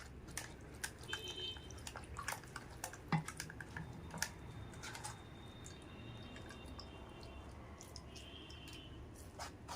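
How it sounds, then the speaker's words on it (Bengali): Wood apple pulp strained with water a little at a time, giving faint close drips and small wet splashes scattered over a low background murmur. "অল্প অল্প করে ছাঁকবো।"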